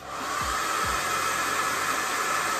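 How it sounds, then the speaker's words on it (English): A blow dryer drying hair, a loud, steady whooshing roar that starts up and runs continuously, close, with a couple of brief low thumps near the start and no talking. "with the blow dryer because it's taking too long to dry for me"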